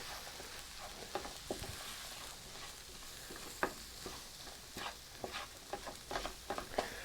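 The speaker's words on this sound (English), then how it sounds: "Give that a little bit of a stir" Chili powder, flour, salt and pepper coated in olive oil in a pan give a soft steady sizzle, with scattered light scrapes and taps from stirring, fairly quiet and with no talking.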